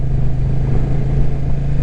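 A Honda NT1100 touring motorcycle cruising on open roads in Spain, its engine holding a steady low drone with constant wind rush, loud and unbroken throughout.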